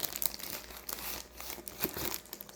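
Packaging of a transfer paper sample kit being opened and unpacked, with loud, close crinkling and crumpling of plastic wrap in irregular bursts and a brief tearing sound, no talking.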